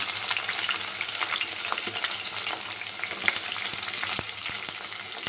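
Onions and curry leaves frying in oil in a pan for a South Indian garlic curry, alongside browned garlic, giving a steady close sizzle with occasional spoon stirring and small crackles.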